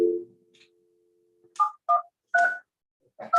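Telephone keypad dialing tones: a dial tone fades out, then four crisp DTMF beeps follow at uneven intervals, each distinct and close.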